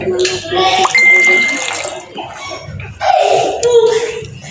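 Gravy liquid pours into a pan of fish curry in two bursts of splashing, close up, with a voice speaking between the pours.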